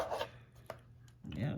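A few faint knife strokes chopping tomatoes on a board, with soft rubbing sounds between the sparse cuts.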